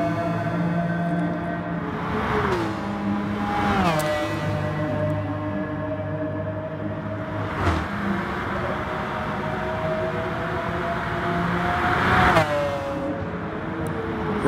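Race car engines in Gran Turismo Sport, with a McLaren among the field: loud, sustained high-pitched engine drones that rise through the revs and drop sharply at several gear shifts, layered over one another throughout.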